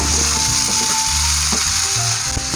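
Chopped medium tomatoes with a spoonful of salt frying in a pan for egg masala curry, a loud steady sizzle with clicking, ratcheting stir-like bumps and low thuds throughout.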